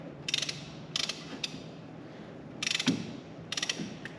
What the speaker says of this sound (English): we can put a ratchet on it